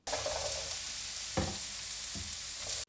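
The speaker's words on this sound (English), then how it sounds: "mix it so that the edamame gets all that garlic and oil around it" Edamame frying in a pan with garlic and oil, a continuous close sizzle broken by a few distinct stirring knocks and scrapes, with no voices.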